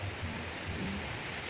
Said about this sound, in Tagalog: Lumakas na ang ulan.